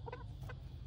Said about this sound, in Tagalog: Baby pa talaga ang aking mga manukis.